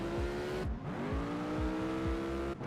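A race car engine in Asphalt 8 roars loud and close, revving up through repeated gear shifts with brief drops in pitch between them, with faint tire squeal.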